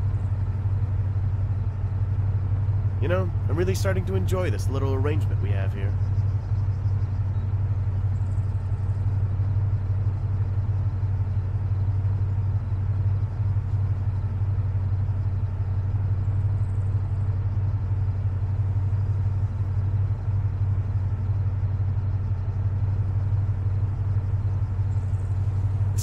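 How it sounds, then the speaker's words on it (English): A car engine idles steadily in the Arma 3 video game, a low continuous rumble that runs throughout, with a voice speaking briefly near the start. "Keep the engine running."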